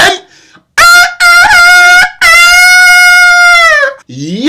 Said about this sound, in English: That is the Fowl alarm.